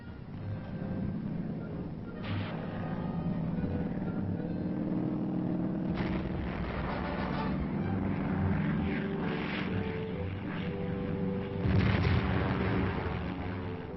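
Korean War aircraft strafing with guns and rockets, a continuous droning engine roar with rumbling bursts of gunfire and explosions swelling through it, loud and distant-sounding, with no talk.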